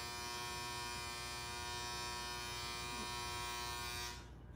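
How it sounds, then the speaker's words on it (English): A clothes dryer runs with a steady, dense mechanical hum and buzz, holding constant for about four seconds before cutting off abruptly; no one speaks over it. "That was a dryer."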